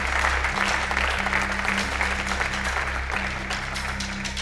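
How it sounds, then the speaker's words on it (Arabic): A television studio audience applauds for Palestine, a sustained wash of clapping under a steady low musical hum. "عطولي تصفيق على بلادنا فلسطين"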